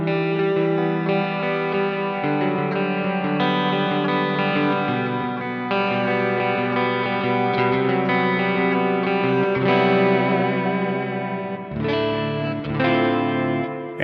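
Clean electric guitar on the neck pickup through a JOYO Clean Glass pedal with delay and reverb, playing sustained chords and melodic lines that ring steadily and fairly loud throughout, with no voices.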